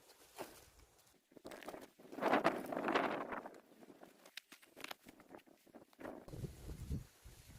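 Gusty wind rushes across the microphone outdoors while balloon flower seeds are sown in a field, rising into a loud sustained roar in the middle, with rustling and soft scuffing around it.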